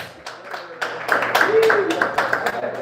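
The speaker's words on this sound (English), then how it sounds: "Clap it up for yourselves." A comedy show audience claps in scattered, uneven bursts, with individual hand claps standing out close by while a voice talks loudly over them.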